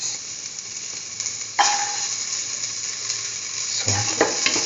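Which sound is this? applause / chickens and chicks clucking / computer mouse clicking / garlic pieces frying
garlic pieces frying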